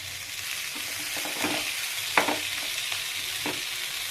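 Crushed black pepper, garlic, dried red chili and white beans with turmeric frying in a pan for a cowpea thoran, a steady sizzle with soft stirring scrapes and a few sharper clicks, close and alone.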